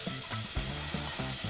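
Onion frying in a heated pot for pickle soup, a steady sizzle with repeated stirring scrapes at a regular rhythm, close and fairly loud, no voices.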